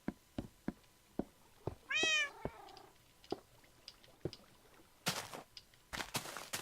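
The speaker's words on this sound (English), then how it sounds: "Oh, it's my two Siamese cats." Siamese cats in the Minecraft Tekkit modpack give one clear meow amid a series of sharp clicks and thuds, followed by two short bursts of noise near the end.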